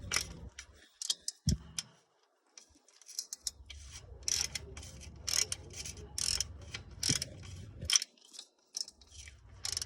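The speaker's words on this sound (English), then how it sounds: "I still gotta loosen it with the ratchet" Ratchet loosening a bolt on the starter of a 2006-2011 Honda Civic: close, irregular bursts of sharp metallic clicking and ticking with short pauses between strokes.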